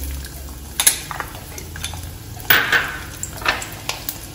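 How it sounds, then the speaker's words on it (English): Garlic and dry chili fry in a pan for a spicy chicken dish, a steady low sizzle broken by a few sharp stirring clinks and scrapes of a utensil against the pan. "But first I have to fry the garlic and dry chili."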